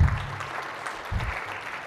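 A small audience claps briefly after a magician's card-counting trick, a short burst of clapping with a low thump near the start and another midway, fairly close and fading quickly.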